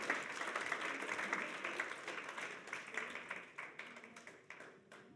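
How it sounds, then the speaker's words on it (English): Steady applause from an audience at a medical journalists' awards ceremony, a dense wash of many hands clapping that fades slightly toward the end, with scattered individual claps standing out. "Another round of applause"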